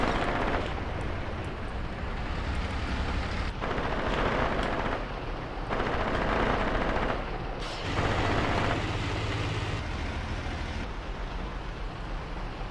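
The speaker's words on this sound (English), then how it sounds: "And we are now starting to shoot at them." Gunfire and explosions rumble through a wartime tactics battle in Graviteam Tactics Mius, a continuous loud barrage with long stretches of heavy fire broken by brief shifts in intensity, no voices.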